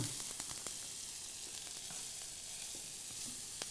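Food sizzling in a hot pan, fried on both sides, with a steady, close crackle and scattered sharper pops throughout and no voices.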